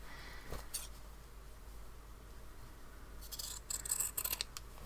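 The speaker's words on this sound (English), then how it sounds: "just clip the corners and trim away some of that excess" Fabric scissors clip corners and trim excess seam allowance on a patchwork pouch, a few crisp, close snips, one early and a small cluster near the end, over a quiet background.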